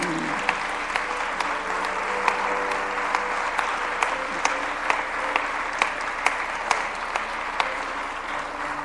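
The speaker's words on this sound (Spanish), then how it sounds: "Denle un fuerte aplauso a Dios." Church congregation applauding during a sermon, a continuous crowd clap with distinct sharp claps standing out in a loose rhythm, steady and moderately loud, with faint voices beneath.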